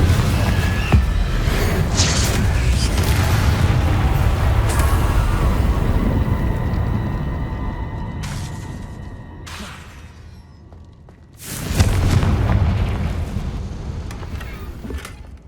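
A Confringo fire spell explodes in the Hogwarts Legacy video game with a loud, rumbling blast that sustains and slowly fades, followed by a second heavy burst of rumble near the end.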